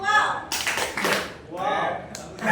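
A group of people claps the rhythmic 'tepuk wow' chant in a classroom presentation session, with short bursts of clapping and voices mixed in.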